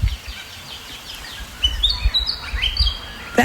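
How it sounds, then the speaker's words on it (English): A willy wagtail sings at sunrise in southeastern Australia, its bright, sweet chirping phrases close and clear, repeating over a low outdoor rumble with no talk. "That song is a willy wagtail."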